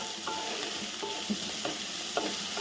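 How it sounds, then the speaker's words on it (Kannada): Onion, green chilli and ginger fry in a hot pan with a loud, steady sizzle, broken by a few spatula scrapes and stirs as the pieces are pushed around. "ಇದು ಸ್ವಲ್ಪ ಒಳ್ಳೆ ಮಾಡಿ ಫ್ರೈ ಮಾಡೋದು"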